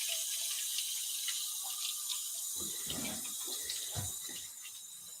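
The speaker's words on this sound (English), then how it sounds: "I'm just going to use water to rinse off the soap here" Tap water runs steadily into a sink while soap is rinsed off a felt cowgirl hat embellished with molded decorations, a constant hiss with a few splashy bursts near the end, fairly quiet and without talk.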